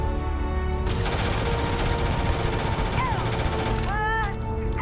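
Sustained automatic gunfire from enemies and weapons in the video game Starfield, a dense unbroken rattle lasting several seconds before tapering off, with tonal game sound effects sliding in near the end.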